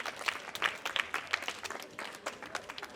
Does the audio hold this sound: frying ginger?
no